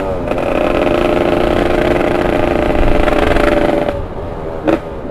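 A Yamaha RX Special motorcycle engine revs loudly and continuously on a test ride, a close, buzzing two-stroke drone that holds for several seconds, then drops away with a brief blip at the end.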